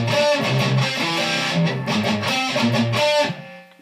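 A distorted electric guitar plays the pre-chorus part of a song as a loud, continuous run of chunky chords and shifting notes that fades out in the final half-second.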